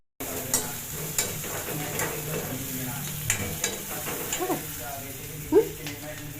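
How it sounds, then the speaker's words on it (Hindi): Dal (lentils) frying and being stirred in a pan, a steady sizzle with scattered scraping and clinking knocks from utensil against metal, in a home kitchen with household sounds and voices in the background. "दाल ला फ्राई करत हो संगवारी हो"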